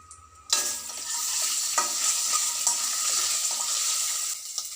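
Oil sizzles and crackles steadily as peanuts are dropped into a hot pan for tempering, with a sudden burst of frying followed by constant hissing and faint stirring.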